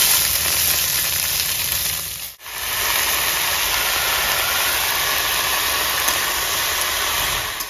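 Freshly cut and washed spinach hits a hot pan of lightly fried eggplant in a rural home kitchen. It makes a loud, steady sizzle and hiss that drops out for a moment partway through and then resumes just as strongly.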